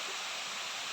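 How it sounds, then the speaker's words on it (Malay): Tall waterfall at Tak Abek in a jungle setting, a steady broadband rush of falling water heard from nearby, constant and unbroken with no voices. "Ini ada terdapat satu air terjun."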